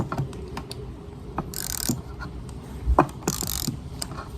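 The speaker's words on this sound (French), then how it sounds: "On dévisse, tout simplement." Screws being unscrewed while repainting a Kisbee scooter, heard as close, soft mechanical clicks and ratcheting with two brief bursts of scraping hiss.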